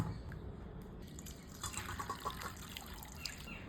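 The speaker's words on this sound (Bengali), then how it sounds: "আমগুলো পরিষ্কার করে ধুয়ে নিলাম" Raw mango pieces are rinsed in fresh water, giving soft, close splashing and trickling with small drips and sloshes, quiet and continuous throughout.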